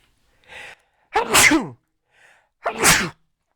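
Two loud, sharp sneezes in a quiet room, each preceded by a short breathy intake.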